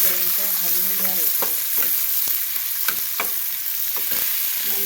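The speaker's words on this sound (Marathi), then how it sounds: "अगदी बारीक चिरलेला कांदा. छान होईपर्यंत हलवून घ्यावे." Finely chopped onion fries and is stirred in a pan for egg bhurji, a steady close sizzle with scraping spoon strokes and a few clinks throughout.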